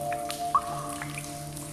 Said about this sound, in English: Drip by drip, sculptures are formed.